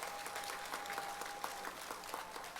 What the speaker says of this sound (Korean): 양향자 후보에게도 박수 한번 쳐주십시오